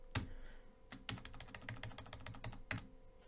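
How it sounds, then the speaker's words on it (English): Keys clack on a computer keyboard in a quick irregular run of crisp taps, with a couple of louder strokes at the start and end, close and alone with no talking. "when I'll press the arrow up on my keyboard"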